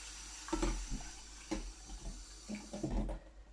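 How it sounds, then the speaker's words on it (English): Water pours into a cooking pot holding red lentils for Sri Lankan parippu dal, a soft splashing trickle with a few light clinks of the pot, fairly faint and close. "And we put water in there."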